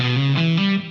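A distorted electric guitar picks a quick four-note minor 7 flat 5 arpeggio starting on the 7th, each note ringing into the next with a gritty, saturated tone, loud and close.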